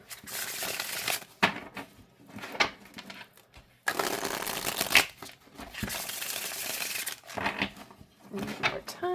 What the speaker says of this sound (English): All right, let's see how they shuffle